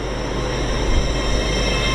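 Class 800 unit 800-205, a five-car train running to Lincoln Central, passes close by with a steady loud roar of rolling wheels and a faint high squeal, continuous throughout.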